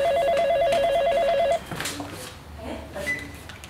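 A telephone rings with a rapid warbling electronic bell tone for about a second and a half, loud and steady, then cuts off, leaving faint room noise and shuffling.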